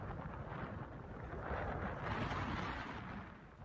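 Strong gusting wind at an outdoor tennis match in a storm in the Var, a steady broadband roar of wind buffeting the microphone that swells in the middle and eases toward the end, with no voices.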